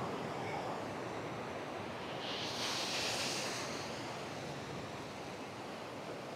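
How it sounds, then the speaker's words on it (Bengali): Roaring surf of large sea waves breaking along Cox's Bazar beach on the Bay of Bengal, a loud continuous wash of crashing water with wind buffeting the microphone and a brief surge midway, with no voices. "দেখুন কি বিশাল বিশাল ঢেউ আর কি গর্জন দেখুন"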